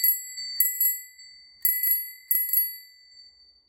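An I Love My Bike bell fitted to a Raleigh Swift folding bicycle rings in three bright bursts, each a quick double ding with a long shimmering decay, close and clear with no talk.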